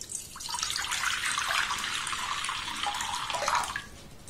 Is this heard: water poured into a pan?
yes